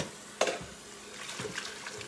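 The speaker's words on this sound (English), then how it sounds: "So let me rinse this." Tap water runs over an item being rinsed in a kitchen sink during sauce preparation, a short splashing burst followed by softer trickling and a second brief splash, close and alone.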